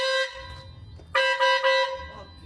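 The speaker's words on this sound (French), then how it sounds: "c'est le klaxon" A Renault Twingo's horn blares twice up close, a loud, harmonic honk that sounds briefly and then returns longer and stronger, with a low rumble beneath it.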